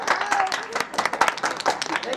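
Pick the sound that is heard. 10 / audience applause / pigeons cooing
audience applause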